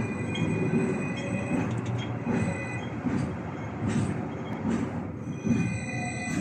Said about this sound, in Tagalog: So kani tawag nila ni tram.